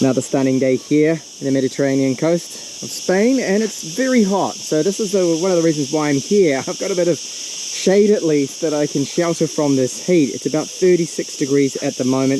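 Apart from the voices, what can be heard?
cicadas buzzing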